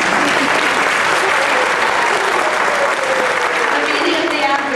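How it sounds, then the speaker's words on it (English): Audience applause at a school holiday concert, a dense, loud and steady roar of many clapping hands that stays constant throughout with no pauses. "you can clap, that was good."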